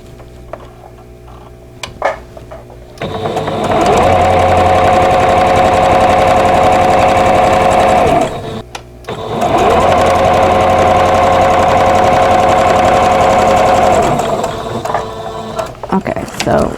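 A sewing machine stitches quilt block squares in two long steady runs, each several seconds long, with a loud, fast mechanical whir and clatter and a short pause between them, then quieter handling noises.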